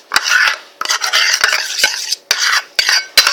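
Purple slime being stirred after dye is poured in, giving wet, squelchy, scraping strokes in several bursts separated by short pauses, loud and close, with no talking.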